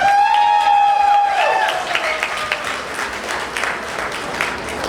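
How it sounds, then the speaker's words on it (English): Wedding guests break into applause at the reception, a sustained crowd of clapping that follows a brief ringing tone and carries on alone at moderate loudness. "Can we please give them a round of applause?"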